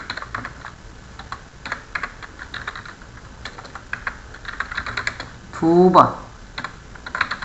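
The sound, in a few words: pressing the F4 key on a computer keyboard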